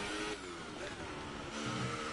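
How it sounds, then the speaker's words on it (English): Formula 1 race cars whipping past on a straight in F1 2018 at the Baku circuit, a faint, steady engine whine that swells as the cars pass, with a voice talking over it. "I love the sound of the cars whipping by down that straight"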